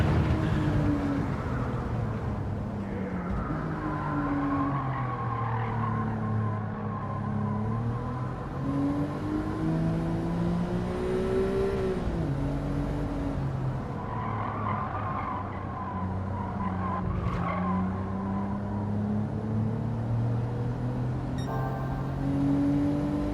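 Racing video game car engine drones steadily for a long stretch, its pitch rising and falling through gear changes, with tire squeal and skidding mixed in at a moderate, even level.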